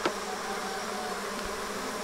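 Honey bees buzz around an Apimaye Ergo Plus hive in a steady, continuous drone. It is fairly soft overall, with one bee passing close and louder at the very start.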